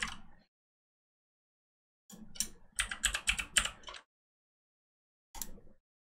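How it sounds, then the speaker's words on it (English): Computer keyboard typing, close and clear, heard as a brief tap, then a rapid cluster of keystrokes and one last short burst of keys after a pause, with silence between. "all I'm going to do is type in SKJT"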